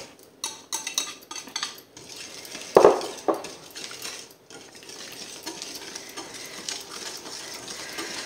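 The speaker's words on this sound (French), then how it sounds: "et on fouette" Eggs are whisked into a pineapple cake batter in a bowl, giving uneven bursts of clinking and scraping with one louder knock, then softer rhythmic beating.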